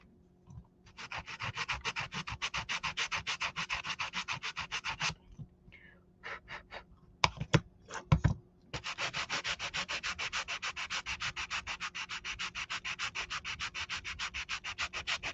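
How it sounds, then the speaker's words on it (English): Dried spackle on a miniature 1950s kitchen piece is sanded by hand in steady rapid back-and-forth strokes, close and crisp, with a short pause and a few knocks midway before the rubbing resumes. "I need to sand the spackle"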